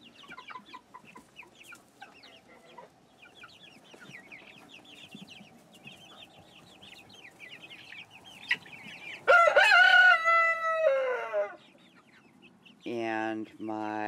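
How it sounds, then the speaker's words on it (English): A young rooster in a backyard flock crows loudly and close by, twice, the second crow after a short pause, following soft clucking and chatter from other chickens while a person talks quietly. "And a stern rooster boy."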